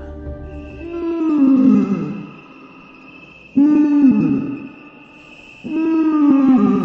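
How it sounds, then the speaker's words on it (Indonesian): Three drawn-out, eerie bird-like wailing calls on Mount Slamet, loud and close, each rising then sliding down, separated by short pauses with a thin steady tone underneath. "Terdengar seperti suara burung,"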